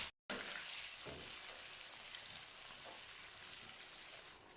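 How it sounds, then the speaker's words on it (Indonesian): Eggplant fries in a pan of hot oil, a steady close sizzle and crackle that runs on without pause and fades slightly near the end. "Kita akan goreng terongnya."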